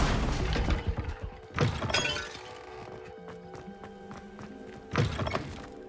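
Objects pulled by a summoning spell in the Hogwarts Legacy video game: three loud bursts of shattering and thudding impacts, each followed by rattling debris and faint clinks, against a quiet ringing background.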